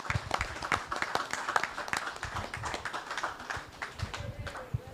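Audience at a Culturama 50 celebration claps in sustained applause, a dense continuous patter of many hands, fairly close and steady throughout.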